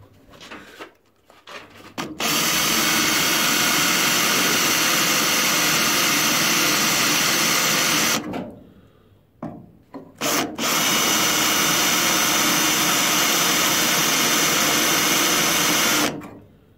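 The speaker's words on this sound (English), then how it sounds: "I need to drill that down." A power drill runs in long, steady bursts with brief pauses between them, loud and close, grinding through metal on a Ford Cortina Mk5 body restoration.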